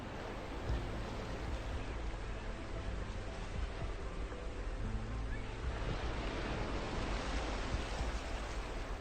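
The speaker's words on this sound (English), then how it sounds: "The continuous crashing of waves forms a strong and steady ambient" Waves crash steadily against rock walls at Mughsail Beach in Oman, a loud, continuous roar of surf with wind, the surge swelling again in the later seconds.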